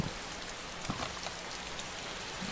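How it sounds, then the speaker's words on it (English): Steady rain hisses over the ground in a quiet DayZ town, a dense continuous patter with a few louder drops standing out, no voices, constant and moderately close throughout. "It's raining here."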